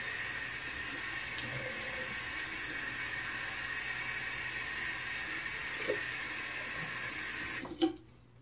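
Water runs steadily from a tap or hose at low level while rinsing off, with a brief louder splash near the end.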